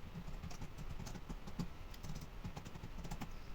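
Quiet, rapid keystrokes on a computer keyboard while entering text in an Excel spreadsheet, with a soft, uneven run of close clicks over a low background hum.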